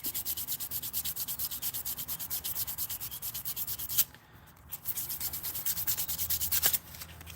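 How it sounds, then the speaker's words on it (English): Hand sanding with quick, regular back-and-forth rasping strokes close up, pausing for about a second before resuming at the same brisk rhythm, no speech. "I think I've done about all the sanding I'm gonna shoot"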